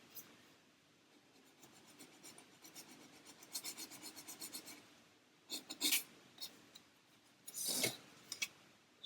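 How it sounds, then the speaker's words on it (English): Sanding a small wooden part for a 1/400-scale Queen Mary 2 model, close and quiet: soft raspy strokes in steady runs, then a few louder, sharper passes near the end. "And then we can just sand that, make sure that's as square as we'd like."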